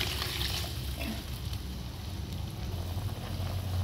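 Water is poured into a cooking pot of clam broth with black pepper, producing a soft, steady rushing and bubbling wash that continues evenly throughout at low volume.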